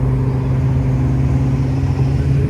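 Vintage Corvette engine idling at a Route 66 classic car parade, a steady, loud, low rumbling drone held throughout with no talk.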